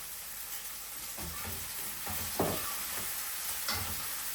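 Tomatoes frying in hot oil left over from frying fish, a soft steady sizzle with a few quiet stirring scrapes and bumps, fairly faint and close.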